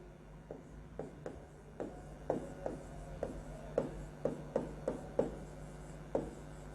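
A marker or chalk on a classroom board during a chemistry lesson makes a run of quiet, irregular strokes and taps, with short scratches spaced about half a second apart.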